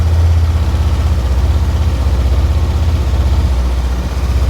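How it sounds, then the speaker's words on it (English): An engine idles steadily with a low, even throbbing rumble, close and loud, with no voices. "So we'll start up the bike."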